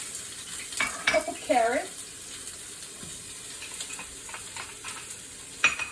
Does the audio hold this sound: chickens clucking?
no